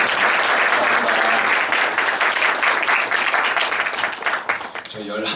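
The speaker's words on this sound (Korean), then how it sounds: "강사님께 다시 한번 감사의 박수 보내드리겠습니다" After a lecture on biblical wisdom theology, an audience claps in sustained, dense applause that tapers off near the end as a voice begins to speak.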